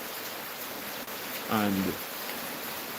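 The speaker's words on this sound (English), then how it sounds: "So the rain is still falling" Steady rain falling during Hurricane Melissa at an off-grid homestead, a constant soft hiss throughout, with a brief spoken word partway through.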